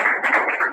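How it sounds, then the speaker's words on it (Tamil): A church congregation claps hands in a fast, dense patter of overlapping claps, continuous and fairly loud across the short stretch, with no speech. "கைத்தட்டி கைத்தட்டி."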